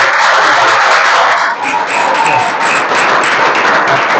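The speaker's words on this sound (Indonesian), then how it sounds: "Tepuk tangan untuk kita semua" A classroom of vocational high school students claps loudly and steadily, a close, continuous wash of applause that never lets up.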